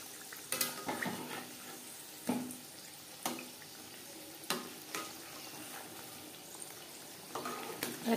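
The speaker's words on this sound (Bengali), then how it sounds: "একটু সময় নিয়ে ভাজতে হবে" Chicken patties fry in a pan with a soft, steady sizzle. Now and then a utensil scrapes and clacks against the pan.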